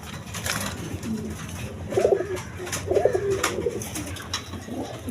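Colored pigeons, including a cream-colored chulli pigeon kept with eggs and chicks, coo in several soft, throaty bursts close by. A steady background hiss runs underneath.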